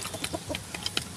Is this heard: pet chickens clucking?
yes